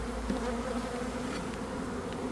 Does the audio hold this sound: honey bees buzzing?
yes